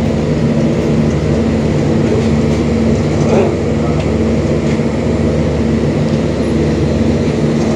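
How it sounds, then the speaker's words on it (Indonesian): Probowangi train from Surabaya Gubeng bound for Ketapang at an Indonesian railway station in rain, a steady loud rumble and hum of rolling stock with a faint squeal, no break throughout. "ketemu kereta api Probowangi dari Surabaya Gubeng dengan tujuan akhir stasiun Ketapang"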